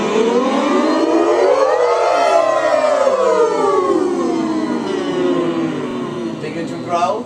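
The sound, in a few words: voices imitating a siren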